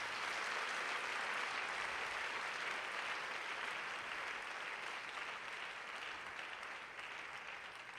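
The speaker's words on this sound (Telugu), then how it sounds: "చప్పట్లు సరిపోలేదా?" A church congregation in Vijayawada claps in a dense, sustained burst that fills the room, steady throughout and easing slightly toward the end, with no voices over it.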